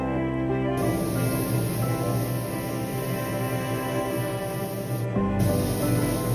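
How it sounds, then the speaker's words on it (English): A steady, close hiss of spray primer coating 3D-printed scale model car parts such as wheels, hubs and chassis, one long burst followed by a brief gap and a second burst. "we are ready for priming all parts, wheels, hubs, chassis,"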